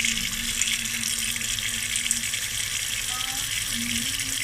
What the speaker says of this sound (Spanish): Ahora la voy a dejar debajo del agua.